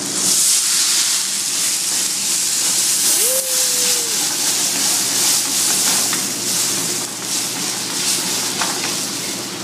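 Pinot Grigio hits a hot pan of browned garlic, giving a loud, steady, broad sizzle and hiss of steam that continues throughout, with a brief tonal squeak partway through.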